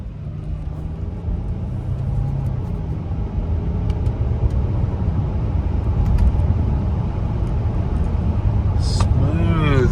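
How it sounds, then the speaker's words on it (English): Cabin of a 2011 Mercedes E350 4Matic cruising on a rural road, a steady low engine and road rumble that swells slightly, with faint speech near the end. "Man, oh man, smooth driving car."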